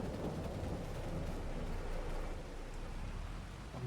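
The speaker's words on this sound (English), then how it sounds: "it's not going to be super fun driving around in the rain" Steady broadband rain hiss in Farming Simulator, a dense, even wash of falling rain that holds at a constant level throughout with no voices over it.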